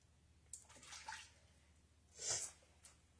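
Water is squeezed by hand out of long wet hair, two soft splattering gushes a second apart with faint drips, close and quiet in a still room.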